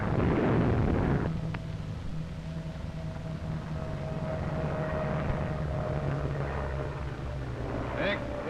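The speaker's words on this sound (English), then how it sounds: "squadrons of the Nippon bombers speed toward Hawaii in dim light" Squadrons of Japanese bombers fly toward Hawaii and Pearl Harbor in dim light, their engines making a heavy, continuous drone that is loudest at the start and then settles into a steady rumble.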